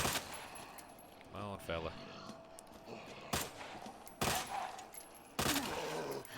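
Gunfire in the Resident Evil 2 Remake video game: several loud, sharp shots spaced a second or so apart, each standing out over a low background, with someone speaking briefly between them.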